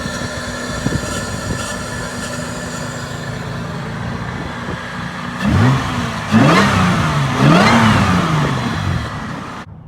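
A TRD supercharged Toyota Camry engine idles with a steady hum, then is revved three times in quick succession, each rev rising and falling loudly nearby.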